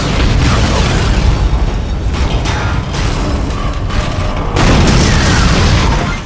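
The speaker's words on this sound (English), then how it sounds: "Isaac accesses the Kellion's controls, only for it to start blowing up in his face" The spaceship Kellion exploding in Dead Space (2007): a loud, dense roar of booming blasts and grinding metal mechanisms that holds for several seconds, surges again near the end and stands alone without speech.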